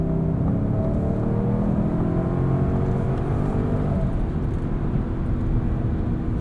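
A 2022 Lincoln Navigator Black Label with 440 horsepower accelerating in its spirited Excite drive mode: a steady, full cabin drone of engine and road noise that holds throughout, with no talking.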